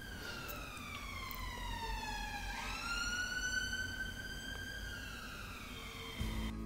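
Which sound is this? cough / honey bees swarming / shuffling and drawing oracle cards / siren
siren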